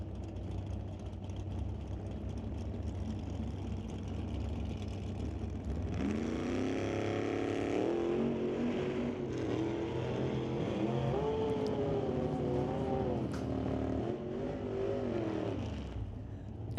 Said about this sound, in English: Having to do a little bit of driving there with the S10 pickup